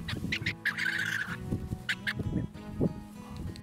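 Seabirds at a nesting colony on a Mexican island, including boobies, tropicbirds, frigatebirds and albatrosses, give harsh honking and gobbling calls in short bursts over a steady background of colony noise.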